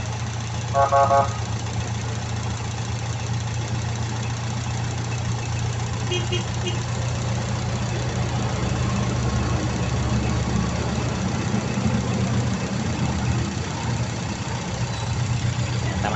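A car engine idles steadily at about 900 RPM with a faulty bimetal vacuum switch, giving a continuous low, even hum that stays close and level throughout with no pauses.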